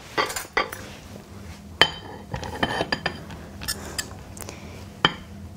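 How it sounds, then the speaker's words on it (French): Utensil clinks and scrapes against a bowl while butter and chocolate are mixed for a banana brownie, with a series of sharp metallic taps spread irregularly over several seconds and no talk. "On va mélanger le beurre avec le chocolat."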